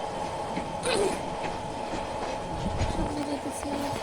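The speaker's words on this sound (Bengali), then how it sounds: "সামনে ঝকঝকে ঝক ট্রেন চলে" A train runs steadily in a train simulator video game on a route from Chittagong to Sitakunda, with a continuous rolling rumble and faint clickety-clack of wheels, a few squeals, and a voice talking over it.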